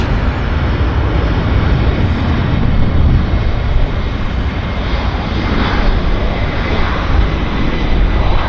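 Loud, steady roar of an Air China airliner taxiing at Vancouver airport, a broad continuous engine rumble that stays close and constant with no voices over it.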